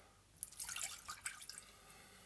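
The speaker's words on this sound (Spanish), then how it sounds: "vamos a echar primero el vinagre." Vinegar poured into a small saucepan, a faint, short trickle and splashing of liquid that starts after a brief pause and fades out, heard alone.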